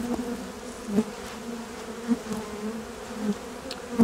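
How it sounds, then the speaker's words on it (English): A bee works a flowering plant in a November garden, buzzing steadily and close up for several seconds, its drone swelling in brief pulses as it moves. "The bee got pollen on it there."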